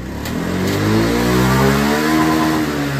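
A Honda Beat scooter engine, recently fixed of a misfire, revs up smoothly from idle, its pitch rising and holding high before easing slightly, close and loud with no voices.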